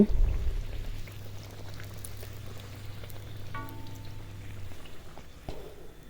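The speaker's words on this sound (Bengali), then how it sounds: "একটা দিয়ে দিছি তেলের ভিতরে ফুলে গেছে একবারে টুম এটা তেলে দিলে সাথে সাথে ফুলে যাইব" Luchi puffs up as it fries in hot oil in a home kitchen, a quiet steady sizzle with a low hum that fades partway through, followed by a few faint clinks.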